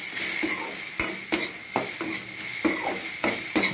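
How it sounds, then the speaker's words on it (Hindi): Soybean chunks with salt and turmeric stirred in hot frying oil, a constant bright sizzle broken by a steady series of scraping spoon strokes against the pan, close and loud. "फ्रेंड्स मैं यहाँ पे सॉल्ट और हल्दी पाउडर डाल दिया, मैं मिक्स कर लेता हूँ।"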